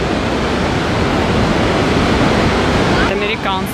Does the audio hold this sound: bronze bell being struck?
no